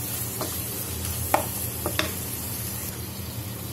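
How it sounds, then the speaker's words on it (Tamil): Marinade base for a Kerala-style chicken roast sautéing in a pan, a steady sizzle with a few sharp scrapes and clinks as the spoon stirs, close and quiet, no talking. "ஒரு 1 மினிட் நல்லா வதக்கி விட்டுறலாம்."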